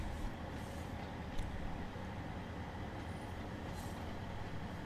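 Electric train in Train Sim World 3 on the West Cornwall local line, a steady low rumble of traction motors and rolling stock with faint hissing bursts, continuous and fairly near, no talking.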